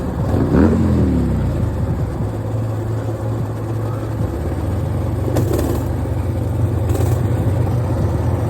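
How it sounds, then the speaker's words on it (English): A mini bike or motorcycle engine drones steadily on a city street, with a brief rising rev near the start, while traffic-like rumble continues throughout and occasional louder bursts pass close by. "Y'all hear him trying to rev his motorcycle?"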